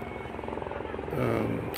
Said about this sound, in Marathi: एक हेलिकॉप्टर येत आहे आता.